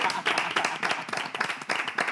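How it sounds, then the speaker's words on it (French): Audience applause in a French television studio, a steady dense patter of many hands clapping close by, lasting a couple of seconds. "Avec des applaudissements."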